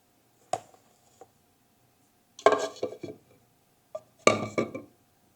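A tablespoon scoop digs into coffee grounds three times, each pass a short gritty scrape with faint metallic clinks, quiet and close against near silence.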